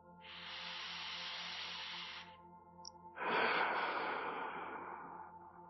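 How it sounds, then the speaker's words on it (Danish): Two deep breaths during a morning yin yoga session: a long, soft airy inhale, a brief pause, then a fuller, louder exhale that slowly fades, close to the microphone over a faint steady hum. "Tag en sidste dyb vejrtrækning her."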